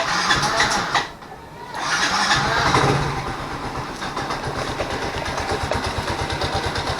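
A motorcycle engine tested with WonderLube oil sputters, dips briefly, then catches and settles into a steady, rapid idle with a regular rhythmic chug, loud and close.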